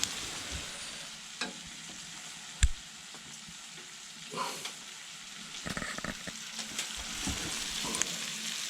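Bison, mushroom, garlic and kale sizzle gently in a pan on a wood stove at a snowy campsite, a soft steady frying hiss broken by occasional scrapes and clinks of stirring.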